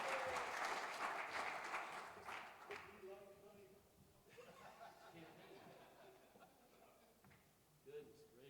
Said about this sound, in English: Y'all can clap for Mike.